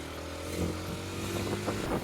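A Hero Xtreme 125R motorcycle engine idles and revs lightly nearby, a low steady drone with slight rises in pitch.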